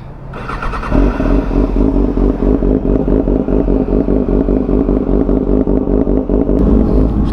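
Ducati V4S motorcycle engine starting up, then idling loud and close with a rough, rapid pulsing throb that holds steady to the end.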